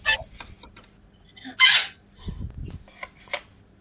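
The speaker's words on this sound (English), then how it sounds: "he's hearing birds" Pet birds kept in a cage indoors give a few short chirps and calls in scattered bursts, one louder squawk standing out, against a quiet room with low background rumble.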